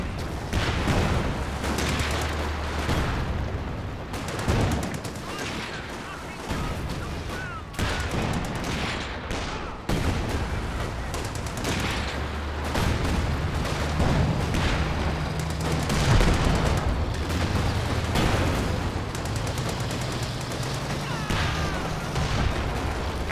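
Repeated booming explosions and dense gunfire from a Land Mattress rocket artillery barrage in Company of Heroes 2, loud and continuous for the whole stretch, with layered impacts and crackling fire throughout.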